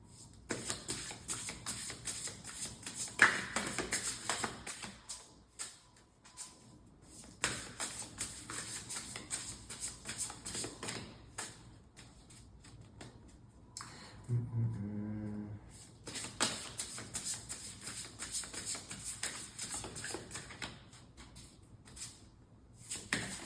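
Tarot cards shuffled by hand up close, quiet continuous riffling and tapping with brief pauses, fairly faint throughout.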